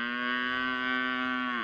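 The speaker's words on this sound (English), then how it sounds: "There's our cows, all happy, mooing out there." A cow on a farm in Patagonia, Chile gives one long, steady, resonant moo that holds its pitch for well over a second before dropping off, close and loud with no voices.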